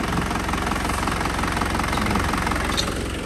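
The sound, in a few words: Isuzu engine idling smoothly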